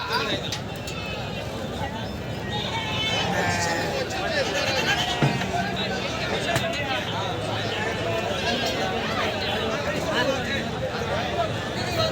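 Many goats bleat over and over at a busy livestock market in Dharmapuri, some near and some farther off, amid a steady babble of crowd talk.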